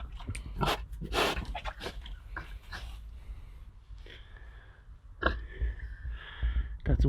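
Dogs whimper and snort with a few short barks and whines, close by and irregular, amid household background noise.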